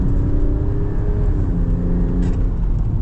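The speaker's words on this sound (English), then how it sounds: "That's climbing through the gears very easily" A 2025 Land Rover Defender 110 D350 diesel pulls hard through its gears. The engine drone rises steadily and dips briefly at a shift, loud and heard from inside the cabin.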